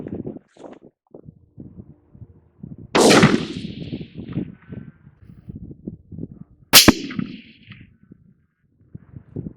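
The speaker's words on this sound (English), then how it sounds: "So we'll go ahead and fire another shot." Two sharp, loud rifle shots from a scoped rifle at a shooting range crack out several seconds apart, each with a brief rumbling tail, amid low handling noise.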